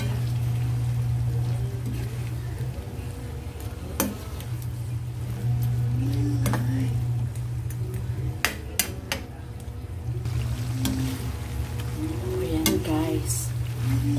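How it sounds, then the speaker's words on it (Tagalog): Bitter melon and shrimp in coconut milk sizzle steadily in a pan while a utensil scrapes and clinks against it now and then. "Kaya atin siyang halu-haluin."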